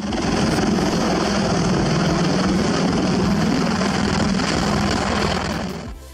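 A heavy tiltrotor aircraft lifting off from a helipad in England, a loud, steady rotor and engine roar that stays constant and close, then cuts off sharply at the end.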